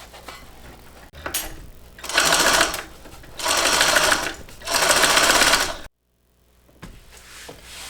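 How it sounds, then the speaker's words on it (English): An electric sewing machine stitches a quarter-inch seam in three sustained runs of fast, humming needle clatter, each a second or two long, with quiet handling sounds between them and a pause near the end. "now we're going to sew this on at 1/4 of an inch seam allowance."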